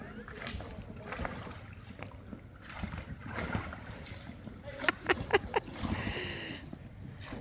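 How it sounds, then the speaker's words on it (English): A flat dinghy being rowed nearby on open water, with soft splashes and a few rhythmic oar knocks and drips, faint outdoor ambience and quiet background voices. "There's Mike rowing his flat dinghy."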